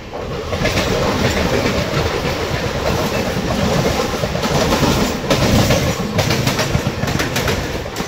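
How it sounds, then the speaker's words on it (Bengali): Kanchanjunga Express LHB passenger train rolling into Hajiganj station, a steady loud rumble of wheels and carriages with faint clickety-clack throughout, heard close from on board. "এখন ঘড়িতে 8:12, ট্রেন ঢুকছে হাজিগড় স্টেশন।"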